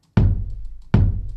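Two deep, resonant bongo drum sample hits spaced under a second apart, each with a sharp attack and a booming low tail, heard alone.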